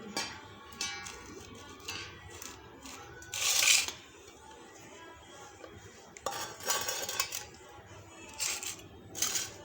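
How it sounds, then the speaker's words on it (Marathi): Knife slicing through raw green mango being prepared for chutney, a few crisp cuts and board knocks, one loud burst near the start and more clustered later, close and alone with no talking. "आपण आता आंबा पण चिरून घेऊ"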